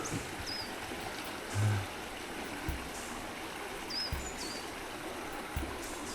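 A clear mountain stream flows steadily along a rough hiking trail, giving a soft continuous wash of running water with a few faint bird chirps and occasional low thumps.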